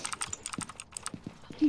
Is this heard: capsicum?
no